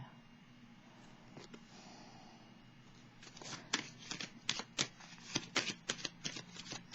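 Tarot cards handled and drawn from a deck, a run of crisp, close card snaps and flicks in the second half after a quiet opening with faint background hum.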